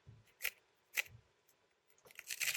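Scissors or a blade cut through the soft foam of a sleep mask, giving a few quiet, crisp snips and crunches spaced apart, then a denser scraping burst at the end.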